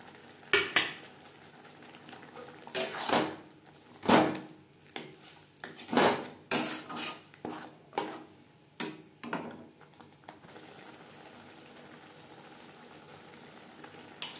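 Goat fat with salt, turmeric and spices is stirred in a pan for a jackfruit curry. Scattered spoon scrapes and clunks sound against a faint frying hiss, quiet and irregular, then settle into a soft simmer.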